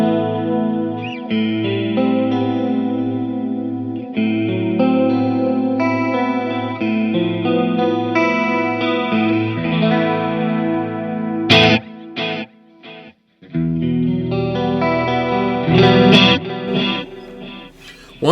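Electric guitar played through an Axe FX preset with the pickup selector in position 4, a sustained effected tone with chorus, echo and light distortion ringing out in chords, briefly cutting out near the middle before resuming loud and full.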